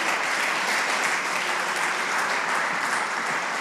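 A church congregation claps loudly and continuously for the whole stretch, a dense even wash of many hands close around, with no voices standing out.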